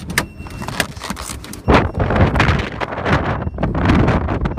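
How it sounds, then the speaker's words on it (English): Strong wind buffets a car at freeway speed, a stock Nissan 240SX S14, producing a loud, continuous roaring rush with gusty surges and low rumble throughout, no voices. "super windy"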